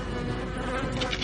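A dense swarm of flies buzzes in a continuous, faint droning hum among rotting produce in an abandoned store, with no voices present.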